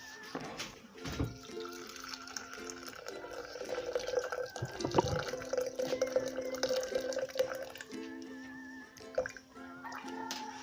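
Hot water pours and trickles steadily into a container nearby, a soft continuous splashing with faint background hum.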